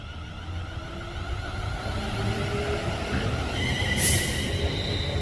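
A Class 350 electric train departs towards Crewe at Lichfield Trent Valley on the West Coast Main Line, giving a steady rumble with a rising motor whine and a brief high squeal near the end.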